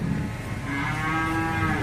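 Cattle at the Tanah Merah livestock market in Bangkalan, Madura, give a loud, drawn-out moo close by, sounding alone over a steady market background.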